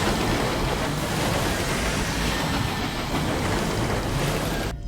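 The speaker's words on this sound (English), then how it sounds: "You have passed through a field of glass fragments." Glass fragments shower over a flying ship in Sunless Skies, a loud, dense, continuous hiss and rattle like a steady downpour of tiny shards, cutting off sharply at the end.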